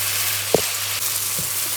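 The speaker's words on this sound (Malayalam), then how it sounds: "ഈ മഷ്റൂമിൽ നമുക്ക് ചീരയില ഒന്ന് നന്നായിട്ടൊന്ന് ഇളക്കി കൊടുക്കാം." Spinach leaves being stirred into frying mushrooms give a soft, constant sizzle with one brief utensil tap partway through, close and alone.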